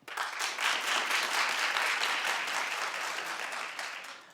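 Studio audience of a talk show applauding, a dense even roar of clapping that swells quickly, holds for several seconds and then tapers slightly.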